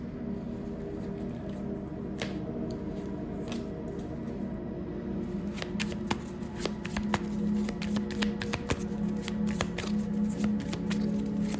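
Tarot cards being shuffled by hand, a steady run of soft riffling and papery snaps that grows busier and sharper partway through, close up over a low constant hum, with no talking.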